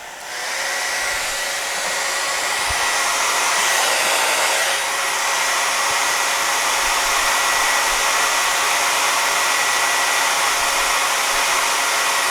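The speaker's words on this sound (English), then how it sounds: "Yeah, that'll dry your hair, no problem. Now let's try medium heat," A hair dryer on medium heat and high fan blows with a loud, steady whooshing roar, running continuously and close throughout, powered from a Bluetti EB70 portable power station.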